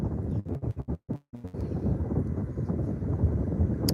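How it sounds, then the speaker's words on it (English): Strong wind buffets the microphone in a steady low roar, briefly dropping out for a moment before rumbling on. "it's windy out here"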